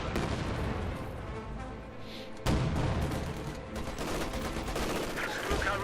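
Heavy 50 cal machine gun fire from a video game rattles in sustained bursts amid other gunfire and booms, fairly loud and continuous with a sharp crack partway through.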